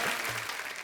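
Studio audience on a comedy talk show breaks into loud, dense applause to welcome a guest, a brief steady burst of clapping with no voices over it.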